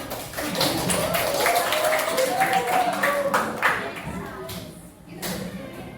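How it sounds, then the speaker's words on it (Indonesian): A classroom gives a student group a round of clapping from many hands: a brisk, moderately loud patter with talk and chatter mixed in, fading toward the end. "Tepuk tangan buat kelompok 5"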